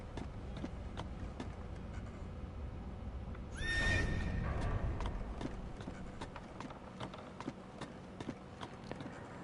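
A horse lets out a loud, clear whinny partway through, amid a background of sharp intermittent clatters and clip-clopping hooves, in the video game Assassin's Creed II.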